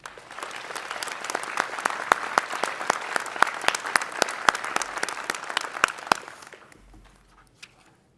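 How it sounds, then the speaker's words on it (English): A commencement audience at Minnesota State University Moorhead applauds the musical performers, loud sustained clapping with sharp individual claps standing out, fading quickly near the end. "Please give them a round of applause."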